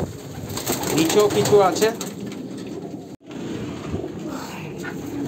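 Kalanka pigeons of a pure Andhra bloodline in a small, crowded loft, cooing and rustling close by while someone speaks over them; a burst of louder calls comes early, then a brief gap before the flock noise resumes.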